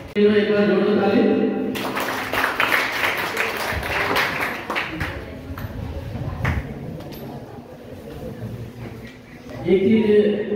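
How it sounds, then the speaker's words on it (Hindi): Loud applause from an audience at a Viksit Bharat Buildathon 2025 event, a dense burst of clapping that swells and then thins, set between stretches of amplified speech. "एक बार जोर से ताली।"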